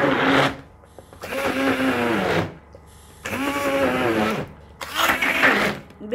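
A food processor puréeing plums whirs in three loud bursts of a few seconds each, with short pauses between pulses.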